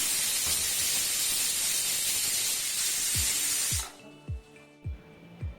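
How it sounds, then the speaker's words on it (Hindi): Loud, steady hiss of steam rushing out of a pressure cooker of rice for several seconds, then it stops and a few dull knocks follow. "जितनी भी स्टीम कुकर के अंदर बनी है उसको हम इस तरह से निकाल देंगे"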